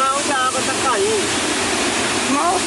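Waterfall in São Sebastião swollen by torrential rain, a dense continuous roar of falling water filling the clip, loud and steady, with a voice talking faintly underneath.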